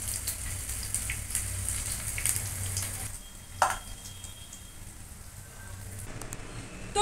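A batch of patod frying in hot oil gives a steady close sizzle and crackle with a brief sharp clink partway through, and no talk.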